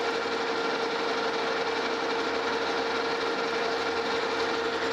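A Lucas horizontal boring mill drilling a center hole: a steady, loud mechanical whir and hum that holds without a break from start to finish.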